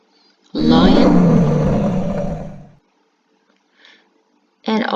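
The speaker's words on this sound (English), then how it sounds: "Lion." A lion lets out one loud, deep roar lasting about two seconds and then trails off, followed by a brief faint sound and the start of another loud burst at the end.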